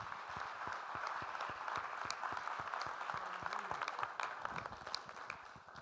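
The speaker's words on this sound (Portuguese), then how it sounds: "Aleluia, vamos aplaudir Jesus." Churchgoers applaud during a morning service, a steady patter of many hands clapping at a moderate distance, fairly quiet and even throughout.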